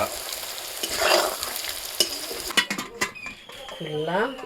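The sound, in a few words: koi fish (climbing perch) frying with turmeric and chili powder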